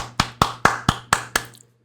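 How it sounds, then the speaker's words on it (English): Six sharp hand claps in an even, deliberate rhythm, close and loud, each ringing briefly before the next, with no talking. "I gotta give you a round of applause"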